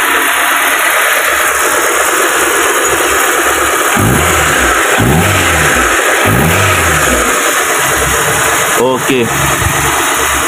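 A car engine idles and then revs in several short, sharp blips after an ignition coil replacement. It sounds close and fairly loud over steady background noise, and a voice speaks briefly.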